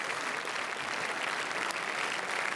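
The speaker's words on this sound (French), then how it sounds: "les applaudissements n'arrêtent pas" Steady, dense applause from a large crowd greets Steven Spielberg on the red carpet steps at the Cannes festival, continuous and fairly distant with no voices.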